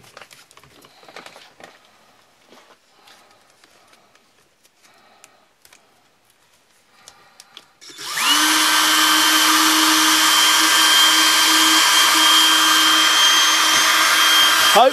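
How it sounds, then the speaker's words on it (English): A power grinder kicks on partway through and runs loud and steady with a high whine, grinding a Mora crook knife blade, after several seconds of quiet handling noises. "and then we're going to start grinding."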